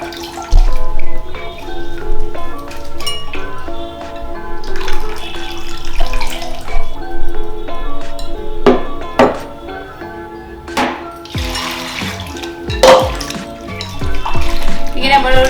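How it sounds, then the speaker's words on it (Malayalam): Water sloshes and pours in a home kitchen as soaked soybeans are rinsed and the water changed, with repeated splashes and faucet-like streams, loud and close, over music. "ഇങ്ങനെ നമ്മൾ ഒരു 3-4 വാട്ടി വെള്ളം ചേഞ്ച് ചെയ്ത് ഇങ്ങനെ വാഷ് ചെയ്യുമ്പോഴത്തേക്ക് ഇതിൻ്റെ സ്കിന്ന് ഫുള്ള് പോയിടും"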